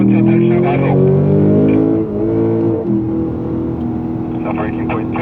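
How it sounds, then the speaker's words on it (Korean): A Lexus GS F accelerates hard out of a corner on the Yongin Speedway race track, its engine droning loudly and steadily throughout while someone talks over it. "2번 차 가속, 3번 차 탈출 가속"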